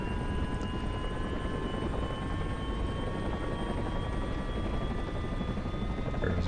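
An OH-6A helicopter in a flight simulator, its counterclockwise rotor and turbine engine droning in a steady, loud whine with a constant blade thrum and high tonal hum.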